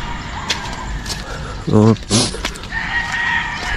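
A rooster near a chicken coop lets out a loud, close crow in two bursts midway through, over ambient outdoor noise with faint voices.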